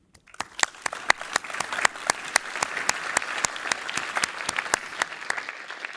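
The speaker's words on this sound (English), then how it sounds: "this is your applause from PACON 2023 for all that you've done for ESOP SAP" Audience applause at the PACON 2023 conference in a cinema hall, made of crisp, distinct claps in a brisk, fairly even rhythm from a modest crowd, starting up and sustaining for several seconds.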